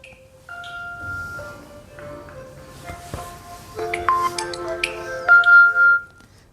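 A phone rings during a class, its electronic melody of sustained tones and chirps starting quietly and growing louder and busier toward the end in an otherwise quiet room.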